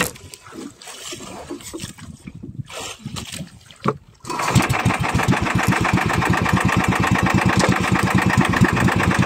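A fishing boat engine near Discovery Rock, Sablayan, starts partway through after a stretch of uneven noise and settles into a loud, close, steady rhythmic chugging.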